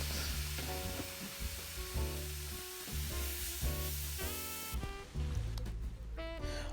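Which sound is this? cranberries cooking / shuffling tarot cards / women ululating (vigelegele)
cranberries cooking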